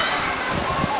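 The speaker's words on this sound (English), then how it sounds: "you see a mushroom with water flowing over it." Water pours steadily over a mushroom-shaped fountain in a children's area at Siam Park City water park in Thailand, a continuous moderate splashing wash with faint voices in the background.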